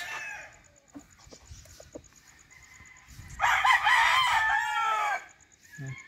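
Game fowl roosters on a gamecock breeding farm crow loudly and close for about two seconds midway, with softer clucks and scattered bird calls before and after.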